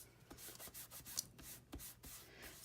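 A foam embossing buddy is rubbed over black cardstock in quiet, brushing strokes, a series of soft, faint rubs with small pauses between them and no voices.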